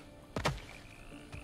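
A frog in God of War Ragnarök's Svartalfheim gives a couple of close, distinct croaks in quick succession, followed by a quieter croak near the end over a low, steady ambient background.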